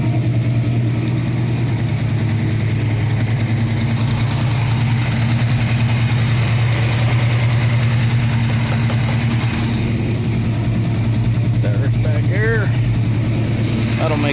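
A Chevrolet C-10 truck engine, running a little warm, idles steadily up close with a deep, even rumble that holds through the whole stretch, with faint voices underneath.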